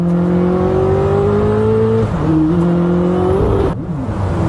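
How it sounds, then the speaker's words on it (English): A powerful Koenigsegg sports car engine revs up quickly and smoothly, its pitch climbing after a gear change, loud and near, no voices. "Have you heard how fast it spools up."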